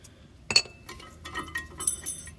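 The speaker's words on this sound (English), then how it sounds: "now you can get your old worn out brake pads out of there" Worn brake pads come out of a 1990 Mazda Miata caliper, giving a few sharp metallic clinks and small rattles, close up and fairly quiet, with no one talking.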